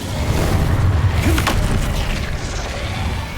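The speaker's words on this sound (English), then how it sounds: "Incendio!" Incendio fire spell cast in the video game Hogwarts Legacy, a loud continuous roaring rumble of flame with a sharp crackling burst in the middle.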